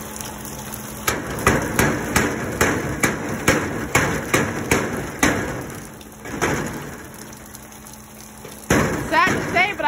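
A hammer strikes a storage unit door to force it shut, a steady series of loud metallic bangs at roughly even intervals, close by, with a brief pause and some voices in the background.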